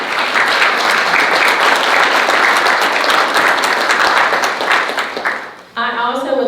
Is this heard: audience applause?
yes